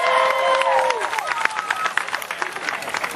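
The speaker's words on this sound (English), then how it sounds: "let's give Dave here a nice big Anderson, South Carolina round of applause" An audience at an alligator show in Anderson, South Carolina bursts into a brief round of applause, the clapping fading into scattered claps after a moment, with a voice heard at the start.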